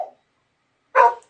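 Two dogs bark in the background at home, with one short bark cut off at the start and another single loud bark a moment later after silence.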